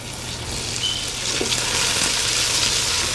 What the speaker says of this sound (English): Give our bacon a stir here.